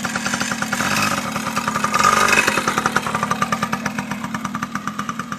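A dirt bike engine revs up as the bike pulls away in gear, a loud, close, pulsing putter that rises and then settles into a steady rhythmic beat.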